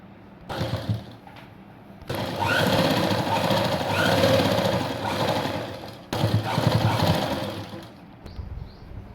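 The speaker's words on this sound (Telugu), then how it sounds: "ఇప్పుడు చూడండి, నేను మా నార్మల్ కుట్లు వేసేస్తాను." A sewing machine runs normal stitches along a blouse seam in short bursts, a steady mechanical whir with brief pauses between runs, close and alone with no talking.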